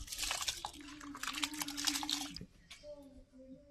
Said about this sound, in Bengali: জল ফুটে উঠেছে, এবার চাল দিয়ে দেবো